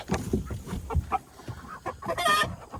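Chickens clucking close by while being handled and moved into a coop, a run of short, uneven clucks and rustling with no speech.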